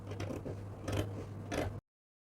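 Scissors snipping through fabric while cutting out a dress, three quiet, close crunching cuts spaced about half a second apart over a low steady hum, then silence.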